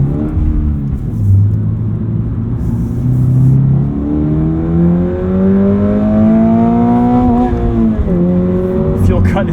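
A 2025 Toyota GR86 Hakone Edition engine revs hard from inside the cabin, pitch climbing steadily through the gear to an abrupt fuel cut, then a quick drop and rise again, with voices talking over it.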